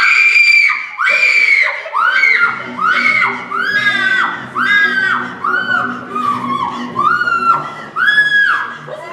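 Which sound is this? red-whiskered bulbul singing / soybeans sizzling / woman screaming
woman screaming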